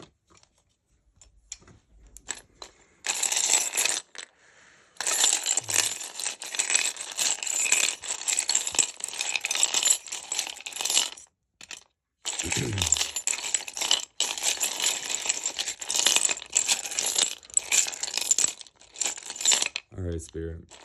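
Divination bones, dice and shells are thrown and shaken, producing long stretches of dense clattering and rattling with brief pauses between throws, fairly close and loud.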